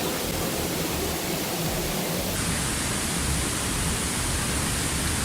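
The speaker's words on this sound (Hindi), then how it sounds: "और ये हम वाटरफॉल पूरा दिखाने जा रहे हैं आपको नीचे से।" A waterfall in the Kashmir hills near Banjosa roars as a dense, constant rush, heard up close and alone, with a slight shift in tone midway.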